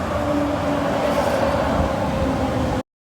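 Swiss train rolling into a station platform, a steady loud rumble with a faint tonal hum, abruptly cut off near the end.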